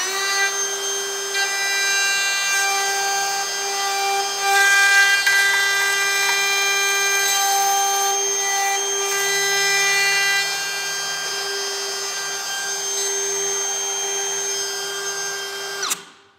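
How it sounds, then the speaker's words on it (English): A router runs continuously while cutting a deep mortise in wood for pocket door hardware, a loud steady whine with strong harmonic tones that holds for about sixteen seconds before cutting off abruptly at the end. "we want to make sure our bit is inside the mortise before we turn the router on"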